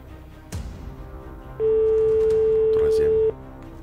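A single long steady electronic telephone ring tone, about a second and a half, sounding clearly over quiet room noise after a brief knock, during a live lottery draw broadcast in French Polynesia.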